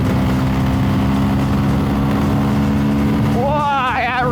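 A Sherco 500SM supermoto's single-cylinder engine drones at about 70 mph on the highway, a loud steady buzz mixed with wind rush, with a rising whine near the end as the throttle opens.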